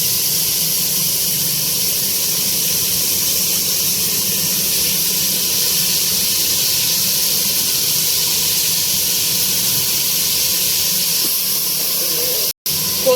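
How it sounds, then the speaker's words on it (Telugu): A bunch of chopped coriander and a bunch of mint leaves frying in a pan with fried green chillies for tomato pachadi, giving a loud, steady, close hiss that runs unbroken almost to the end. "ఇప్పుడు కట్ చేసుకున్న కొత్తిమీర కట్ట ఒక పుదీనా కట్ట వేసి ఫ్రై చేసుకోవాలి"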